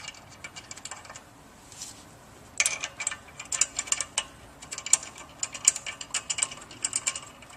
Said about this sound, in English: We'll just begin inserting the bolts.